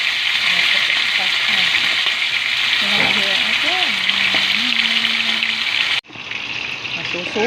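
Blue marlin steak frying in smoking-hot oil: a steady, loud broadband sizzle runs throughout and dips briefly near the end before resuming, with a voice talking over it.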